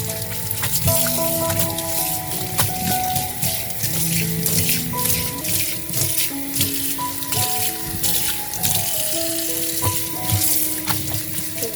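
Clothes washed by hand with liquid soap and water make continuous splashing and sloshing, a steady wet wash close to the microphone, with no talking.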